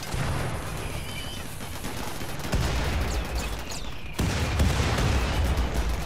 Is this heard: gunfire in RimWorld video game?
yes